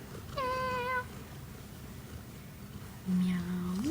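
A cat gives a short, close meow, followed a few seconds later by a lower drawn-out meow that may be a person imitating it, over quiet background noise with soft whispering.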